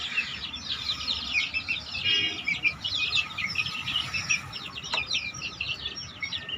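Chicks and hens in a coop after heavy rain, giving a dense, continuous chorus of high chirps and clucks at moderate distance, with no voices.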